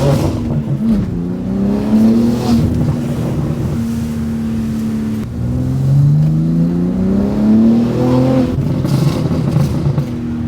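From inside a BMW G80 M3 in Imola Red, fitted with an equal length mid-pipe and with the traction control off and the windows down, the engine revs rise and fall in loud, repeated sweeps over steady wind noise.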